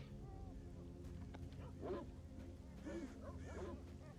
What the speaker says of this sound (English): That dog sounds like it's eating.